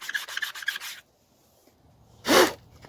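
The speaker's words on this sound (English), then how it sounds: "And I'm gonna do dry sanding." Sandpaper dry-sands a Ford Taurus SHO car body briskly by hand in about six quick rasping strokes, then stops; after a pause comes one louder, sharp burst.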